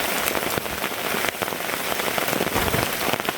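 Heavy rain drums steadily and densely on a tarp lean-to shelter while camping, a loud continuous patter with no talk.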